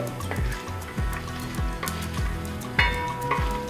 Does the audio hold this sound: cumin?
yes